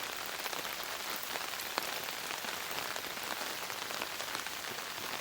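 Freezing rain falls steadily on a sagging, ice-covered tarp in a forest during an ice storm, a dense, even hiss of pattering drops at a soft level, with no talking.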